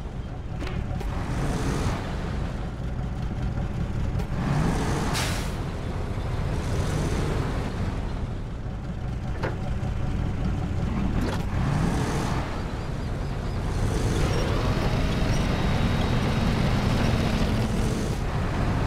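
A steady low engine rumble from an off-road truck in Expeditions: A MudRunner Game, droning continuously and swelling slightly toward the end, with the player speaking over it.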